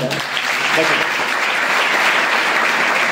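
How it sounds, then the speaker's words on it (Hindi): A crowd claps loudly and steadily at a youth anti-addiction awareness event, dense continuous applause that fills the whole stretch after a brief voice at the start. "भाई जोरदार तालियां बजाओ"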